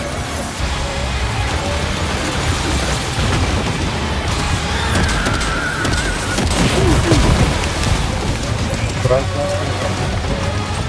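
Gunfire and explosions in the game Death Stranding 2, dense rattling bursts and booms layered over a rumbling, rain-like din, with voices heard over the action.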